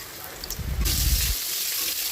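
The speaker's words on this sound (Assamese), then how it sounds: "ইয়া বইল কৰি লোৱা আলুখিনিও ভাজি লৈছোঁ" Boiled potato pieces frying in hot oil in a pan for a kofta curry, a broad steady sizzle with a brief low rumbling burst midway, close and continuous with no talk.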